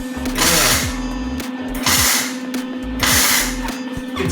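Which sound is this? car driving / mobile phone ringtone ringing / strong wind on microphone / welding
welding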